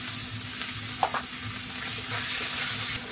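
Ground coriander-cumin spice and tomato sizzle loudly in a pan in an Indian village kitchen, a continuous close frying hiss with a couple of brief stirring clinks.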